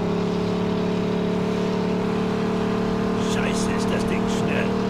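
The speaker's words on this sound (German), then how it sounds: "So, hier auf der Brücke können wir jetzt mal ein bisschen mehr Gas geben." Car accelerating across a bridge in the video game Mafia 2, a steady engine drone building under continuous talking, with a few brief higher bursts near the end.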